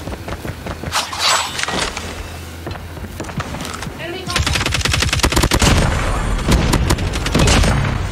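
Rapid automatic bursts from an LK24 rifle in Call of Duty Mobile, dense rattling gunfire that grows louder and steadier in the second half, loud and close throughout.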